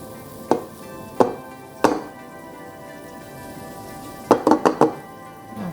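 Spring onions dropped into a very hot pot, giving three separate sharp sizzling hits followed by a quick burst of four close hisses, each loud and brief and heard without any talk.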